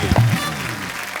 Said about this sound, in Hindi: क्या बात है, जोरदार तालियां पंकज भाई के लिए।